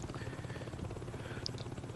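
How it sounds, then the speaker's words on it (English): Helicopter attack in the Saints Row 2 video game: a steady rotor-like drone fills the clip at moderate loudness, with a brief bright burst near the end and no talk over it. "Helicopter blew me up."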